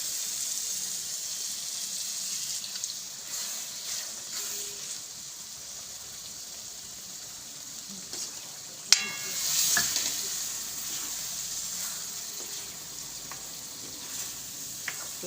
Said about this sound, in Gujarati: હવે આપણે એમાં પાણી નાખી દેવું થોડુંક